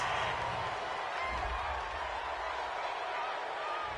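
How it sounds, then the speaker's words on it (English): Steady, distant crowd murmur and booing from a football video game, a continuous low roar lasting throughout with no clear peaks. "Well, this crowd does not like that call."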